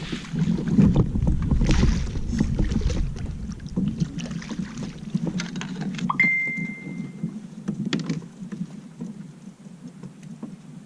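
Steady low rumble of water and wind as an Old Town Predator PDL pedal kayak glides along in the Pacific Northwest, with faint splashes and a brief high tone midway; no talking.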